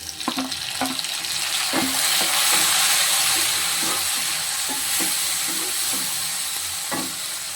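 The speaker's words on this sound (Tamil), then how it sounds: "வெங்காயம் நல்லா பொன்னிறமாக வெந்துடுச்சு. இப்போ வந்து நம்ம தக்காளி போட்டுக்கணும்." Tomatoes dropped onto golden fried onions in a pan for a Tamil prawn curry, a steady close sizzle with intermittent stirring scrapes and clicks throughout.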